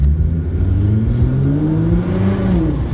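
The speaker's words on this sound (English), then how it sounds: "You can hear the turbo spool fire." Nissan R35 GT-R with a new exhaust revving, a loud close engine note climbing in pitch and then falling back, with the whir of turbo spool rising over the exhaust drone.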